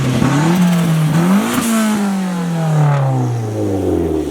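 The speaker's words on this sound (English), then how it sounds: "I knew I heard a turbo Miata." A turbocharged Mazda Miata engine revving at a car meet, loud and close, the pitch climbing in repeated blips before sliding down in a long falling drone as it passes.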